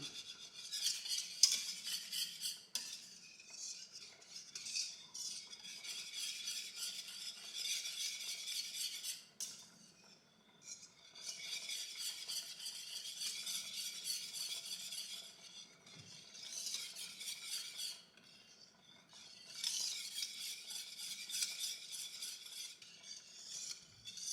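A utensil scrapes and stirs gravy in a skillet in repeated bursts of several seconds each, close and soft, with brief pauses between rounds of mixing.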